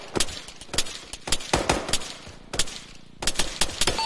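Sniper and rifle fire in the military shooter Arma 3, a series of sharp, loud cracks spaced irregularly about half a second to a second apart, with no speech over them.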